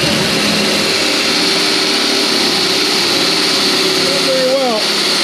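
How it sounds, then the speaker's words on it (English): A power drill with an auger bit whines steadily and loud with a grinding, labored edge as it bores into wood, pitch wavering near the end. "I don't think this one even wants to drill."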